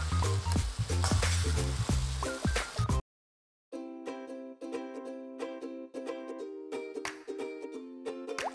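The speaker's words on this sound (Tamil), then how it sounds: "நம்ம அடுத்தது சிக்கனை போட்டுடலாம் அது கூட." Chicken pieces frying with tomatoes in a pan for a Tamil-style chicken curry, a loud dense sizzle that cuts out briefly, then returns with a steady hum and repeated stirring clatter, no talking.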